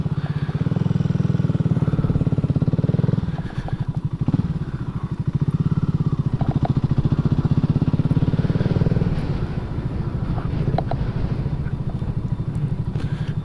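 A BSA Gold Star motorcycle single-cylinder engine just after stalling on a winter ride, steady loud thumping with a brief dip and pause, then a rough uneven running pulse close to the microphone.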